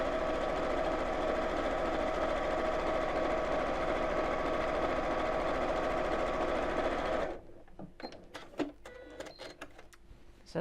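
A sewing machine runs steadily as it stitches a quilting seam along the edge of its presser foot, a loud continuous whir lasting about seven seconds before stopping abruptly, followed by quiet handling clicks and small knocks.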